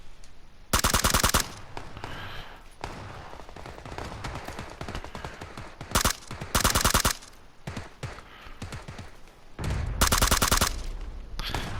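Full-auto gunfire in PUBG on PS4, several loud, sharp rapid bursts of a few seconds each, separated by quieter gaps with faint in-game ambience.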